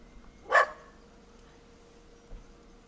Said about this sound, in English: Was the dog barking?